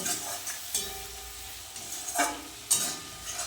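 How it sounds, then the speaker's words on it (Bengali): Turmeric and cumin powder fry in oil with tomato and chilli for a pabda fish tel jhal, stirred in a pan. Close, rhythmic spatula scrapes come every second or so over a soft continuous sizzle. "ভালো করে এটা নাড়িয়ে নেব"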